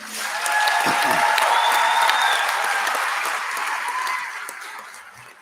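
A crowd at a high school graduation ceremony applauds steadily, a loud wash of clapping with a few cheers and voices mixed in, slowly fading toward the end.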